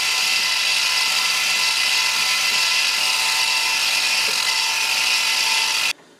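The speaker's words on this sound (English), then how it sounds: "Now I'll just drill all 4 mounting holes." A power drill bores mounting holes, about 3.5 mm for M4 tapping, in an electronic instrument cluster part for a 1976 Mazda RX-5; a steady, loud whine runs nearly unbroken for six seconds, then cuts off abruptly.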